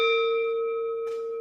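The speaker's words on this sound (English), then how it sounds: "the singing bell." A singing bell struck once during a meditation service rings out in a sustained, clear tone that slowly fades, with a brief soft rustle near the end and no talking.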